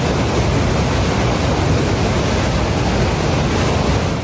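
Ocean waves churn around a small boat in steady, roaring broadband noise with heavy wind buffeting the microphone, continuous and close throughout.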